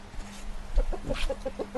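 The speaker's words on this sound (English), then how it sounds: "Here, let's talk to the chickens." Chickens and a rooster clucking in a muddy chicken yard, a run of short rhythmic clucks close by with a steady low hum underneath.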